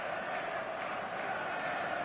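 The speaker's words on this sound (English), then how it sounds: "The stadium is full of noise and energy." Stadium crowd in an eFootball football video game: a steady, dense roar of many voices on match day, continuous and evenly loud throughout with no distinct chants standing out.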